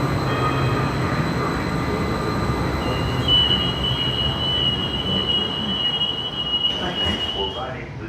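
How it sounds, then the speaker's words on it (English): Newark Light Rail train in motion, a steady rumble of wheels on track with a long high metallic squeal from the wheels as it rounds a curve, loud and close from on board. "This is the train to Hoboken Park."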